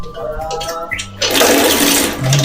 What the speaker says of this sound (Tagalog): Check natin kung nagpo-flush.